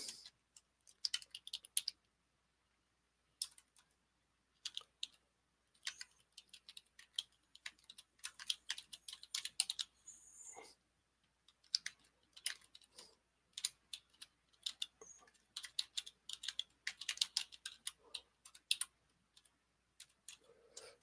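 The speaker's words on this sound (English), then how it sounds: "So yeah, so I was just typing something here." Typing on a computer keyboard: quiet, close clicking keystrokes come in irregular bursts with short pauses between runs, with no voices.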